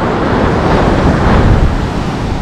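Ocean surf washing up the sand on a beach at Cabo, a steady loud roar of breaking waves close by with wind noise, no voices.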